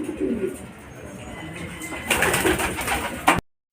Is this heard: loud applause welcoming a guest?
no